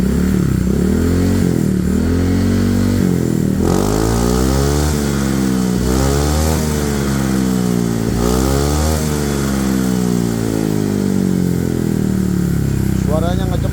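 Motorcycle fitted with an SKR racing-style standard exhaust, idling and revving repeatedly with rising and falling engine pitch, loud and close throughout, someone speaking over it at times.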